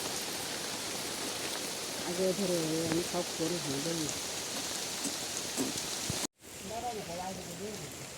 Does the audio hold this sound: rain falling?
yes